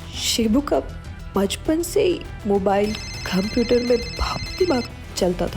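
A phone rings with a steady electronic tone through the middle of the clip while someone talks over it.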